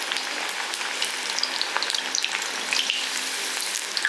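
Onion vadas deep-frying in hot oil for a Kerala-style tea-shop snack, giving a steady dense sizzle and bubbling throughout with small crackling pops, close and moderately loud, no voices.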